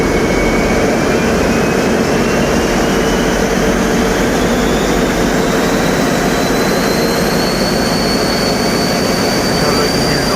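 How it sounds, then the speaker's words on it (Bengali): The engine of a Dhaka-to-Kuakata passenger launch roars steadily inside its engine room, a loud, close, unbroken mechanical drone with a faint rising whine running through it. "লঞ্চের যে মেশিন, এখানে যে মেশিন রুম, এখান থেকে লঞ্চের পুরো পাওয়ার পায়।"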